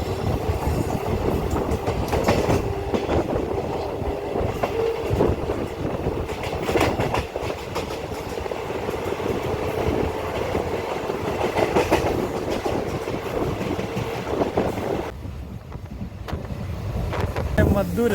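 Rajya Rani Express passenger train rolling near a station, a continuous rumble with clattering wheels and wind buffeting, heard from on board with some faint voices.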